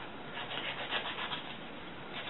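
Steady, close-up sanding of wooden blocks for a wood prop gun, a continuous rasping rub with slight rises and falls, no talk.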